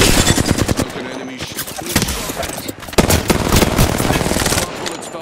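Rapid automatic gunfire in the Ballistic shooter game, dense, close bursts of shots running almost continuously, with a brief pause near the middle, loud throughout.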